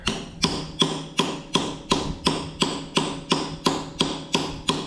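A grease buster tool is struck repeatedly with a hammer to loosen old fittings on a Case 930 tractor, giving about eleven sharp, evenly spaced metallic taps close to the microphone.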